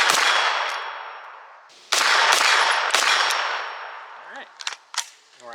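Shots from a Tac Daddy firearm fitted with a tank brake crack out loud and sharp outdoors at a range, a few spaced reports with long ringing decay, then a quicker burst and metallic pings.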